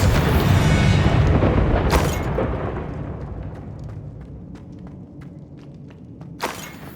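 A Confringo fire spell explodes in Hogwarts Legacy with a loud, deep blast that rolls into a long decaying rumble, a second thud near the start and faint crackling debris scattered through the tail.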